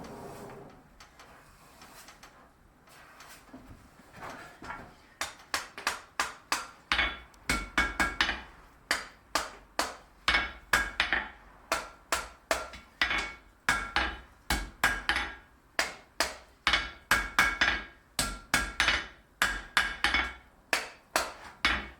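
A blacksmith hammering a forged wrought iron weld to upset it, a long run of loud, sharp, ringing hammer blows in a steady rhythm, close and alone after a quieter start.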